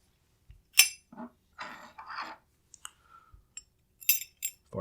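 A metal cam pin is fitted into a rifle bolt carrier group, producing a handful of small, close metallic clicks and clinks separated by brief quiet gaps.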